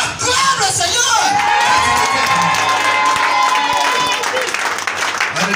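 A church congregation at a morning service erupts in loud, sustained cheering and whooping, with shouts and scattered clapping running throughout and voices calling out over the crowd.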